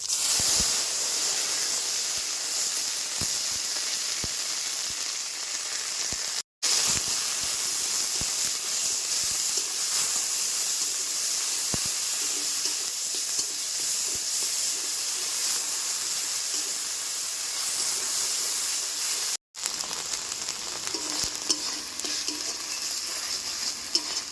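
Onion, ginger, garlic and whole cumin frying in mustard oil for a village-style green-chilli meat dish, a steady close sizzle and hiss with light stirring scrapes throughout, broken by two brief silent gaps, no talking.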